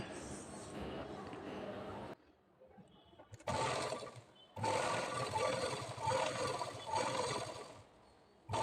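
A sewing machine stitches piping onto a princess-cut blouse, running loud and steady in two long bursts separated by a brief quiet pause, close to the listener.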